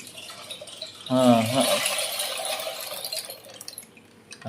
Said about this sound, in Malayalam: മഴമൂളി, മഴ വരുന്ന ശബ്ദം